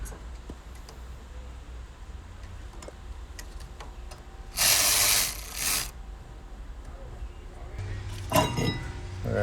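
Ratchet backing out 14 mm rear caliper bracket bolts on a 2003-2007 Honda Accord, quiet close clicking ticks with a brief loud burst of noise midway and another knock near the end.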